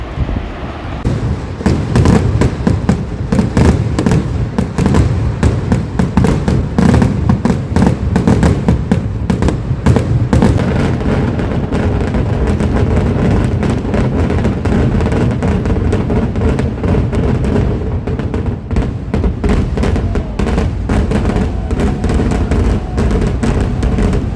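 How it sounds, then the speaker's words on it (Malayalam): A dense, relentless barrage of firework explosions at Paramekkavu's display during Thrissur Pooram, loud and continuous with overlapping cracks and booms filling the whole stretch. "അഞ്ചേ മുക്കാലിനാണ് പാർമക്കാവിൻ്റെ വെടിക്കെട്ട് തുടങ്ങിയത്"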